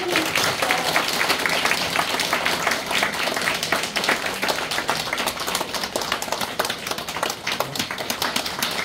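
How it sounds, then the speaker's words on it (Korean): A church congregation in Seoul gives sustained, full applause to welcome a priest arriving for an Advent lecture, with dense, even clapping from many hands continuing at a steady, loud level throughout. "박수로 환영해주세요"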